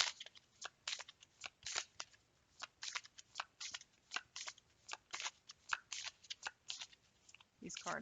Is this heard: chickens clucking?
no